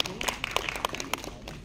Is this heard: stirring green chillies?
no